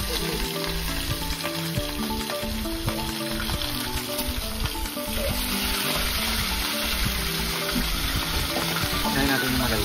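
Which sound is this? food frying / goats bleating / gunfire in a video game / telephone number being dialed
food frying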